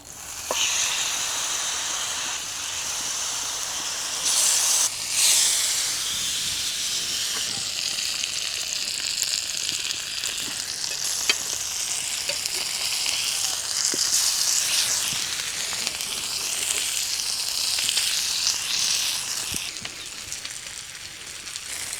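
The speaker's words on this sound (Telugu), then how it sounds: "ఈ మసాలాతోన ముక్కల్ని కనుక ఫ్రై చేసుకుంటే సూపర్ టేస్ట్ ఉంటుందండి" Mutton pieces fry with masala in a pan, giving a steady, loud sizzle and hiss that runs throughout with small crackles and brief stirring bumps.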